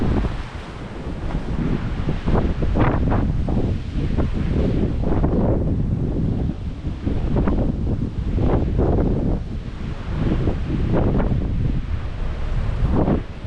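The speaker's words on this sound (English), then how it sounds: "It is so windy." Strong wind buffets the microphone in loud, rumbling gusts that rise and fall continuously throughout, with no talking.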